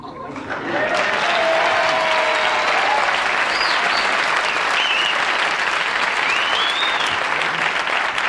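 Studio audience at a 1975 Tonight Show taping applauds loudly and steadily for several seconds, a dense continuous roar of clapping with a few faint voices and whistles mixed in.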